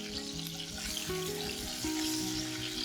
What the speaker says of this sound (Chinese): 鸭皮已经均匀上色并且酥脆，翻过来煎肉的一面